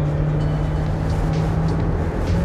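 Mahindra XUV 700 engine pulling under acceleration, a steady close droning hum with a constant tonal whine inside the cabin, no voices.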